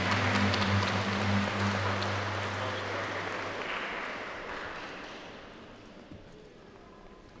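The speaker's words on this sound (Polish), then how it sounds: "Wielkie brawa dla Klaudii." A church congregation applauds after a name is called at a Sunday parish service, dense clapping that starts full and slowly fades over several seconds, a low organ-like hum under it at first.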